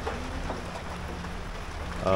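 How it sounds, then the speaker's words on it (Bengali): Steady rain falls throughout in the Dooars after a hailstorm, a continuous even hiss and patter with no pauses, heard from nearby. "এখনও বৃষ্টি হচ্ছে"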